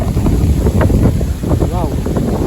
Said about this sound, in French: Et grosse rafale de vent quand même.